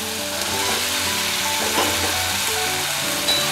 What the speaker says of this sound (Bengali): মাছগুলো দিয়ে আমি আরেকটুখানি কষিয়ে নিচ্ছি।